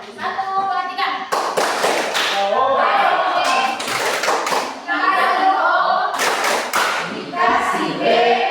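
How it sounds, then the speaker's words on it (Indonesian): Classroom groups of students perform the 'tepuk wow' clapping chant, with bursts of rhythmic hand claps and thumps alternating with children's chanted voices, loud and close, in a lively call-and-response pattern. "Silakan kelompok 1 dan 2 kita tepuk wow kepada kelompok"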